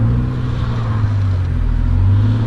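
A Nissan S14 Kouki with a 1JZ engine swap on a stock ECU pulls hard under acceleration, its engine drone loud and steady from inside the car with no speech.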